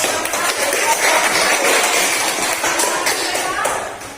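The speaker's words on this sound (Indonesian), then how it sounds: "Tepuk tangan untuk Reva dan" Classroom applause for a student group: a dense burst of many hands clapping together, loud and close, lasting a few seconds and fading slightly at the end.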